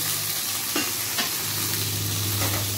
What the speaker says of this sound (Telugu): మంచిగా మిర్చి, ఉల్లిగడ్డ మంచిగా ఫ్రై కావాలి